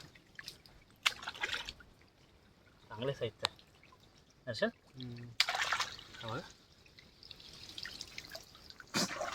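Water drips and splashes in short bursts as a freshly caught crab is rinsed, with someone talking over and between the splashes.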